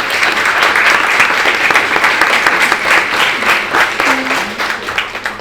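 Sustained applause from a crowd at a presentation with a congresswoman, dense and fairly loud clapping that carries evenly for several seconds, with a brief faint voice near the end.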